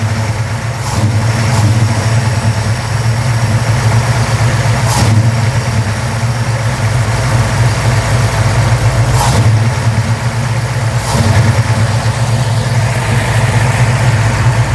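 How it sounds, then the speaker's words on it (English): A muscle car engine fitted with a Wagner dual-flow PCV valve idles loudly up close with a steady rumble, its throttle bumped four times in brief sharp revs that fall straight back to idle. "Let's bump the throttle, see what happens."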